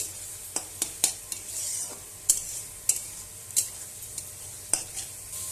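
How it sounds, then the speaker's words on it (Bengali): Chhana and pointed gourd stir-fried in a pan, with a soft continuous sizzle under sharp, irregular scrapes and clinks of a spoon against the pan, up close and without speech. "পটল দিয়ে ভালোভাবে কষবো আমি।"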